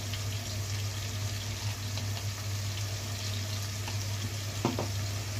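Andhra-style chicken fry sizzles steadily and close in a pan, a continuous crackling hiss. A brief scrape of stirring is heard near the end.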